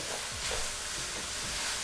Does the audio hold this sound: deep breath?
no